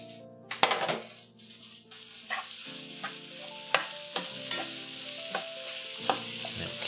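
Tofu soup is stirred in a hot pan, with a spoon scraping and knocking against the metal at a regular pace over a quiet background sizzle.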